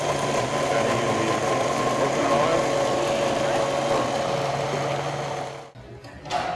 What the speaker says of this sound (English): Firstly, I just pulse it in the food processor or the blender to get it going.